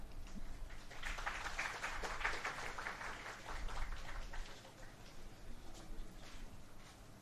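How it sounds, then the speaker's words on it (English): A conference audience at the ACS Toxi India 2024 meeting at Nirma University, Ahmedabad, applauds to welcome a plenary speaker; the clapping is soft and distant, a steady patter that runs for several seconds and eases slightly toward the end. "with big round of applause, let me invite the plenary speaker"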